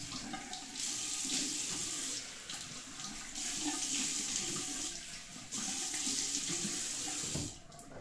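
Water runs steadily from a tap into a sink, a continuous close hiss that swells and dips slightly as the flow changes, with no voices.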